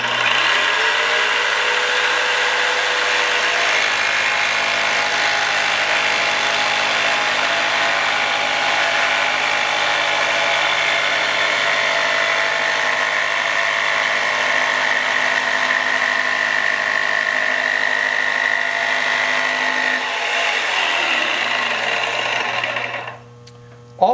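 A power saw cuts the handle opening in a wooden cutting board: a loud, steady, high-pitched whine with rasping blade noise running continuously for about twenty seconds before winding down, close, with no talking.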